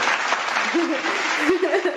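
A canned applause sound effect plays on a podcast, a short even burst of clapping with voices talking over it.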